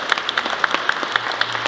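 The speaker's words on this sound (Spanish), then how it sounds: "Vamos a recibirla con un caluroso aplauso." An audience at an evening storytelling event claps to welcome a teacher, steady dense clapping with crisp individual claps standing out, fairly close and moderately loud, no voices over it.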